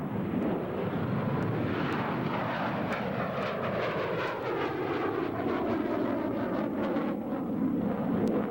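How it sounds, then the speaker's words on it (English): F-14 Tomcat jet flying past at a 1987 airshow, a loud continuous roar that shifts in pitch as it passes, with no talk over it. "approaching at 600 knots as the airspeed continues to build, the Tomcat will demonstrate about 1/3 of its maximum speed capability"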